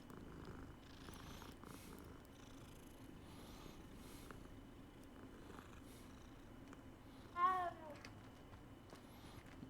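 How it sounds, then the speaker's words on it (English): A cat purrs steadily and softly through a Hogwarts Legacy game scene, a low continuous rumble beneath faint ambient sound, with one brief chirping call near the end. "Hi, cat."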